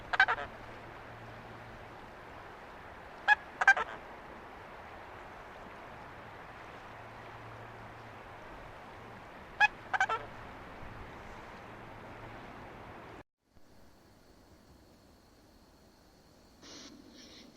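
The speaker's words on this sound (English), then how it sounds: "Swan." A swan gives several short honking calls in separate bursts, at the start, near 3.5 seconds and near 10 seconds, over a steady outdoor background of water or wind.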